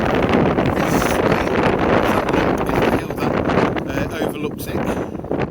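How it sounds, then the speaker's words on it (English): Strong wind roars and buffets the microphone on an exposed hilltop near Solomon's Temple on a cold, cloudy day, loud and continuous with gusty surges throughout. "the wind is howling now"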